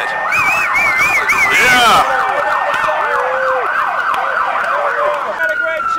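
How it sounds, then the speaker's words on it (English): A wailing siren on a car in a convention parade, loud and close, rising and falling in repeated sweeps, with a brief shout from someone over it. "figured out where the siren is, so we can get that going"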